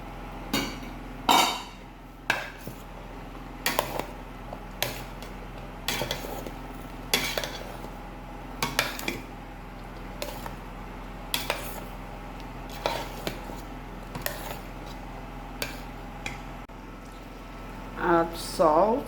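Periwinkles go into a pot of okra soup, bringing a run of sharp, scattered clinks and knocks of hard shells and utensils against metal, some loud and close, over a low steady background, with a voice heard.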